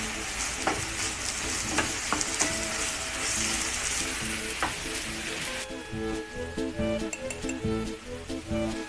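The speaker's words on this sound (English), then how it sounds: "And then I'm going to put some more olive oil. And stir it around." Food frying in olive oil sizzles steadily in a pot while a utensil stirs and scrapes it, with occasional clinks and tonal sounds underneath, and no one speaking.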